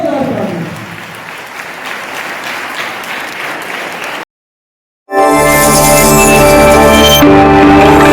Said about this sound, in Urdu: اور زوردار تالی.